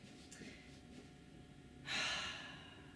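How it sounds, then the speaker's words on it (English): A person breathes deeply during a stretching exercise, with soft breathing and then one louder, breathy exhale close to the microphone in a quiet room. "we're going to take some deep breaths just here"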